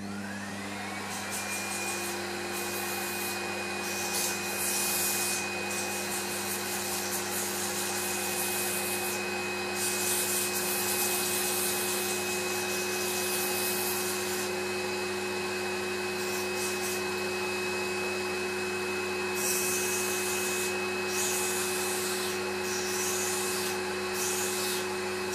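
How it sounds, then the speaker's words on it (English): A noisy electric file whirs steadily throughout a grooming treatment, a constant high-pitched motor whine with a faint rubbing texture and no talking over it. "Let's do some filing now. It's a bit noisy."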